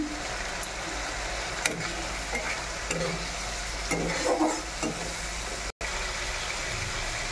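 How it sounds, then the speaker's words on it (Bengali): Spice paste with turmeric fries in oil for a fish dish, hissing steadily as it is stirred around the pan, with soft scraping and a low background hum. "মশলাটা আমি একটু ভালো করে কষিয়ে নেব"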